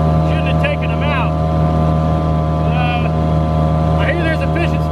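Light motorboat droning steadily on open water with a constant engine hum and hull noise, a dog yelping intermittently over it.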